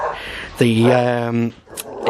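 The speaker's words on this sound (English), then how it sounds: "my dog's just gone nuts barking in the background" An indoor dog lets out one loud, drawn-out bark close by, followed by a shorter yelp, briefly drowning out the room.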